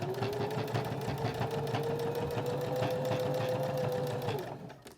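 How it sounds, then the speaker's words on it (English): A sewing machine runs a steady top stitch along a fabric pouch, a close, even whirring hum with rapid rhythmic needle ticks that winds down and stops at the end. "for this top stitching, I want to use the inside edge of my foot as my guide"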